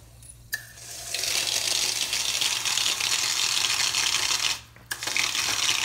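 Mineral water is poured into a glass, a loud close rushing gush that runs for several seconds, pauses briefly, then starts again.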